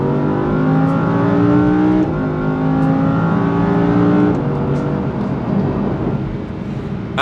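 An Audi R8 V10 Plus with its naturally aspirated 5.2-litre 610-horsepower V10 accelerates hard through the gears, its loud rising engine note climbing, dropping at a shift around two and four seconds, then climbing again.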